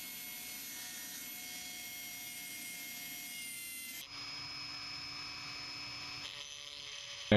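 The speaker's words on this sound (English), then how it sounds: "So I'm going to have to Dremel slots or the space for them to go." A Dremel rotary tool grinds slots into a Mazda 626 door courtesy light bezel, a steady high whine running throughout with a pitch shift partway through and no talk.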